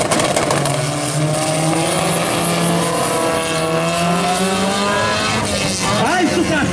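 A Volkswagen Beetle racing at a drag race event in Fernandópolis, its engine roaring loud and steady throughout, with rising and falling pitch as it revs through the run.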